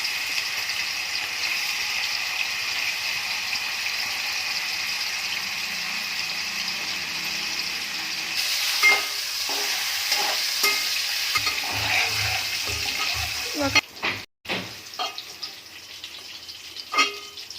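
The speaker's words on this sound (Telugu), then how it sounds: "ఫస్ట్ ఇవి క్రిస్పీగా ఫ్రై చేసుకుందాం." Paneer pieces fry in a pan of oil, a steady close sizzle that continues throughout, joined later by scattered clinks and stirring knocks.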